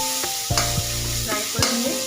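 Onion sizzling in a pan with ginger garlic paste, a constant frying hiss cut by a few sharp spatula scrapes against the pan, close and clear without speech.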